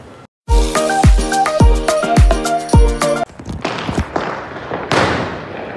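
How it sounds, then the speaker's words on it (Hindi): New Year firecrackers and fireworks go off in a rapid string of loud, sharp bangs with ringing tails, then fade to scattered, more distant pops and crackles. "पटाखों की बारिश हो रही है।"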